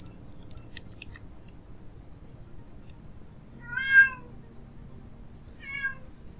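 A house cat feeding her kittens gives two short, clear meows a couple of seconds apart, close by over a quiet room.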